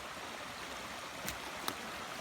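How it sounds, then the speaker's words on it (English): Creek water flowing steadily toward Lonnavale Falls in Tasmania, a continuous broadband rush heard at moderate distance with a couple of brief splashy peaks, no voices. "There's definitely a decent flow of water going through."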